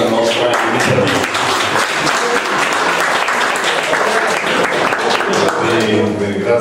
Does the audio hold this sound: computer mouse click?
no